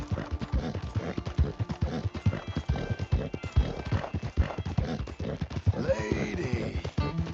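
In Red Dead Redemption 2, a horse's hooves clip-clop in a fast, steady gallop, and a loud neigh follows near the end.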